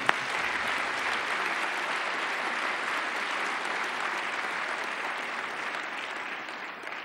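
An audience applauds Madame Kassé at a state prize-giving ceremony addressed by the head of state, a steady, dense wash of clapping from a large crowd that holds for about seven seconds before easing slightly at the end.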